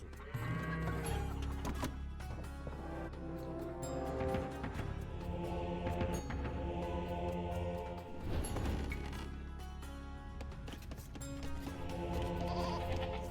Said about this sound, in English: Ooh, there's some sheep here.